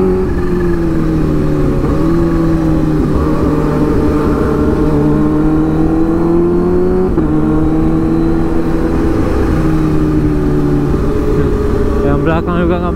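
Several Kawasaki H2 four-cylinder motorcycles speed along at night, a loud steady engine drone rising and falling with gear changes throughout, with voices talking over it.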